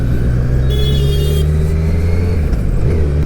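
A Kawasaki Z900 motorcycle ridden in road mode on a street in Chennai, its engine rumbling loud and close with a steady drone and slight rises in revs.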